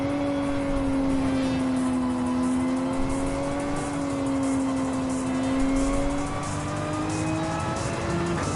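A Porsche engine in a racing video game holds a loud, sustained drone at a steady high pitch, wavering slightly as it revs and pulls. No voices are heard.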